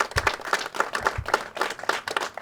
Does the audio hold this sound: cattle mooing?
no